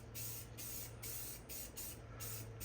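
A spray paint can hisses in a quick series of short bursts, about five or six close, even sprays separated by brief gaps, used on a holiday craft mug decoration.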